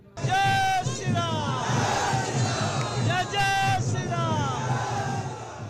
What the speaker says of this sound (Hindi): समर्थकों की जबरदस्त भीड़ है और हुंकार भरते मनोज तिवारी उनका हौसला बढ़ा रहे हैं